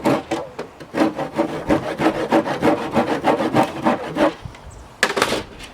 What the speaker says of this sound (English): I'm still working on the old handsaw